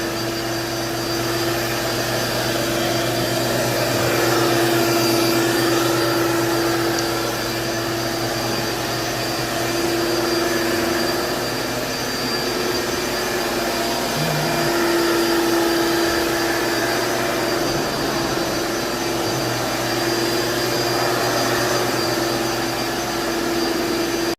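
A vacuum cleaner runs steadily and loudly, sucking up fine dust, its constant roaring whine with a tonal hum holding unbroken for over twenty seconds with no one talking.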